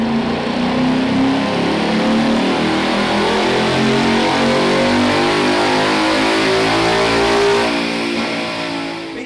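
Automatic 2017 Ford Mustang GT fitted with a Roush Level 2 Performance Pack on a dyno, its V8 droning steadily and rising under sustained load for several seconds, loud and close, before easing off.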